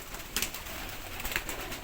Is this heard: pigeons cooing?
yes